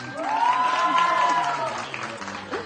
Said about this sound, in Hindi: जिनके ख्याल में इन्होंने अच्छा परफॉर्म किया वो तालियां बजा दें